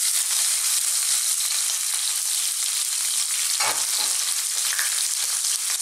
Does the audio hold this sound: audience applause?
no